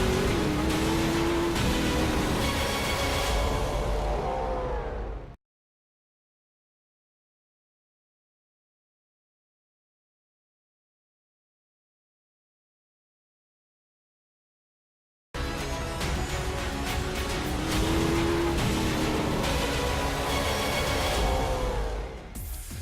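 A V8 race car at Teretonga roars past, its engine loud and revving, heard in two bursts of full-throttle noise split by about ten seconds of dead silence.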